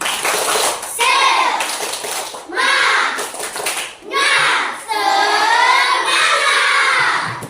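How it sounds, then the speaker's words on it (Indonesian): Children perform a rhythmic spirit clap (tepuk semangat) in a classroom, bursts of group clapping mixed with loud chanting children's voices in several rounds. "Jadi kita mulai ya, tepuk semangat."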